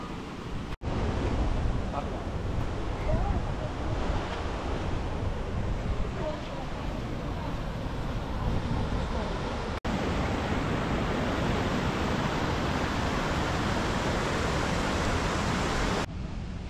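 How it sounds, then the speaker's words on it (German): Waterfall at the upper section of a falls in Chapada dos Veadeiros, Brazil, a steady broadband roar of crystal-clear rushing water, close and loud throughout, with a brief break partway through. "Das ist der obere Teil dieses Wasserfalls."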